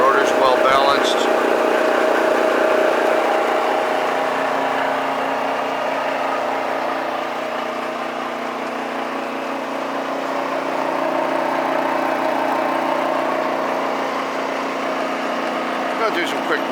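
A Fitzpatrick hammermill with a 15 horsepower drive runs steadily at a smooth, even hum, its sound holding constant for the whole stretch while someone talks over it.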